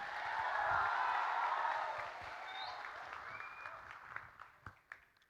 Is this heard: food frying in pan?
no